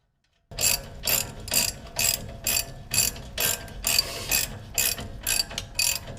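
A ratchet wrench clicks in about a dozen rapid bursts, turning a castle nut on the suspension of a 2007 Toyota 4Runner. The close, loud clicking comes in a steady rhythm with no talk.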